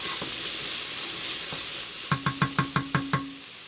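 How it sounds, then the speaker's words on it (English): Onions and garlic sauté in a pan for a low-salt homemade hamburger helper, a steady soft sizzle joined by a quick run of about six rhythmic spatula taps against the pan. "Mix it around. And continue sauteing for about an additional minute or two"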